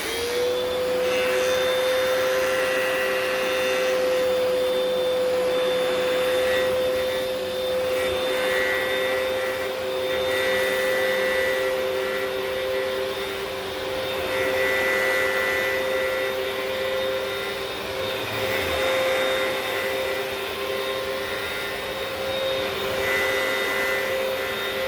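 A Hoover PowerDash carpet cleaner runs its extraction suction with an empty tank, giving a loud, steady motor drone with a high whine that holds for about twenty-five seconds, rising and dipping slightly as the head moves.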